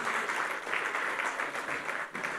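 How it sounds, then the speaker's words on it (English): An audience at an awards ceremony applauds in a steady, dense wash of clapping that holds at an even level throughout, fairly close and without clear gaps. "Give her a round of applause."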